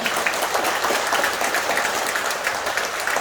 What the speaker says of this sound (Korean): 우리 다 같이 박수 한번 올려드릴까요?